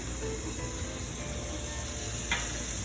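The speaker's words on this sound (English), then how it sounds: "you want to keep stirring until those onions become translucent" Onions and chopped garlic sizzle in a pan for chili, a steady close hiss with one brief scrape of stirring near the end.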